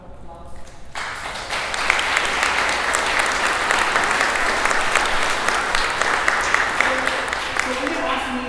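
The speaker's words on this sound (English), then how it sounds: "Please give us a round of applause." An audience at a Veterans Day tribute breaks into sustained applause, a dense wash of clapping that swells and holds for several seconds, with a voice speaking briefly before it starts.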